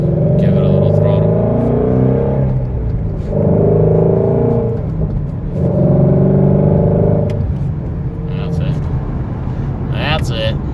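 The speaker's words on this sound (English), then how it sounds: "Give it a little throttle." Engine of a 2018 Ford GT350 revving under throttle: a deep, loud rumble that swells and falls in repeated blips, close by, with someone talking over it.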